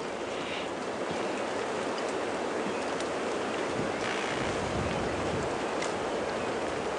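Blustery wind gusts steadily across an open safari track at a hyena den on a cool spring morning in Djuma Game Reserve, a continuous broadband rush with occasional swells, no voices.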